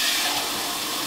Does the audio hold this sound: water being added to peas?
yes